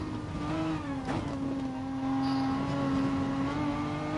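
Race car engine at steady high revs in a racing game on the Nordschleife, a loud sustained drone holding pitch with a brief downshift blip near the start.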